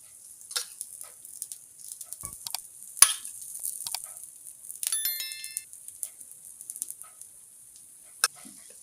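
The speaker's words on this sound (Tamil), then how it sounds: "இப்போ திறந்து விட்டு கொஞ்சம் எண்ணெய் விடலாம்" Oil poured over a dosa on a pan crackles in faint, scattered sizzling pops and ticks, quiet and intermittent rather than a continuous hiss.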